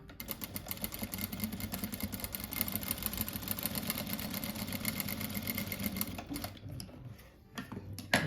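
A sewing machine stitches fabric for a car-shaped pillow, running in a steady rapid whir for about six seconds before slowing and stopping, close and even.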